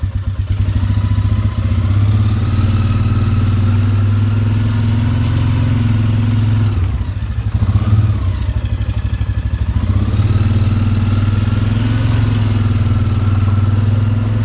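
Polaris ATV fitted with a snow plow, its engine running loud and close in a steady mid-pitched drone with a brief rev change midway while driving in the cold.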